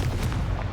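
A Confringo fire spell explodes in the video game Hogwarts Legacy, a short, loud, booming blast with a rumbling burst lasting under a second.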